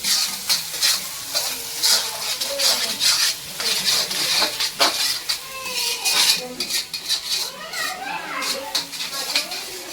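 Onions fry in a pan for a stuffed crab chilli dish, with a crackling sizzle under repeated metal spoon scrapes and clinks against the pan while people talk nearby.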